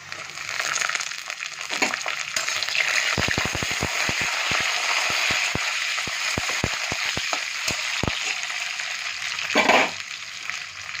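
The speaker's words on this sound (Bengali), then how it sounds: "এরপর আমি রসুনগুলো যে ছাড়িয়ে রেখেছিলাম এখানে দিয়ে দেবো।" Peeled garlic drops into hot oil for sambar, setting off a steady loud sizzle with a burst of crackling pops and sharp spits, then continuous frying hiss, no talking.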